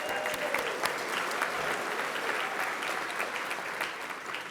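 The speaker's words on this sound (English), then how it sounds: "Now you may cheer." A large audience at the State of the Cities 2022 event applauds the event sponsors, with dense, steady clapping and some scattered cheers that hold at a constant level for several seconds.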